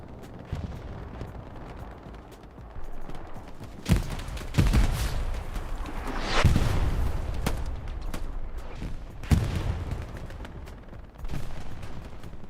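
Precision strike artillery shells land across a Hell Let Loose battlefield on Utah Beach, a run of heavy booming explosions at irregular intervals over a rumbling low din of distant combat, with no talk.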